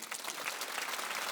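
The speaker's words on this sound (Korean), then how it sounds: "하나님께 박수 칩시다." A congregation at a Korean church Sunday worship service claps together in a dense, steady round of applause, fairly faint and distant, with no talk over it.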